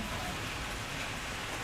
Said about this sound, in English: Just as rain o'clock strikes again.